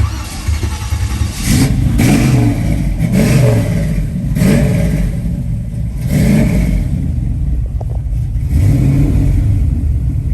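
A 1968 Chevrolet Camaro V8 rumbles steadily up close, with repeated throttle blips rising in sharp revving bursts every second or two over a loud idle.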